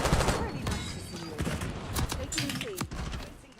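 Video game gunfire crackles in rapid, overlapping volleys, a busy stream of near and distant shots from several directions, with a voice speaking over the battle noise.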